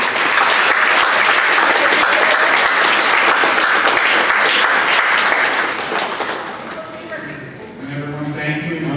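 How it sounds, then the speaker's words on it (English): Dense, loud audience applause fills a senior awards assembly for a graduating class, steady for several seconds before thinning and fading as a voice begins speaking near the end. "One last round of applause at this time."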